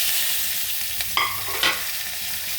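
Onions, green chilies, ginger and curry leaves sauté in a pan for masala dosa potato bhaji, a steady close sizzle broken by a few sharp stirring scrapes of the spoon.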